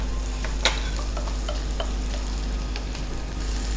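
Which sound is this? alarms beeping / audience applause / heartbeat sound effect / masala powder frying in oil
masala powder frying in oil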